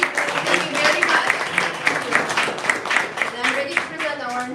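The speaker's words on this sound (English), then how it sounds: "Please, guys, give a round of applause for Alexei." Audience applause and clapping for a startup presenter at a Spanish startup award ceremony, a steady crowd patter of moderate loudness with a voice speaking over it.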